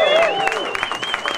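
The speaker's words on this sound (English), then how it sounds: "Give them a round of applause." An audience at an Ignite Baltimore event breaks into a brief burst of clapping, soft and somewhat distant, with a voice and a thin tonal sound over it.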